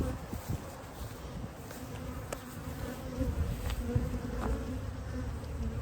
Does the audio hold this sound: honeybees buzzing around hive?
yes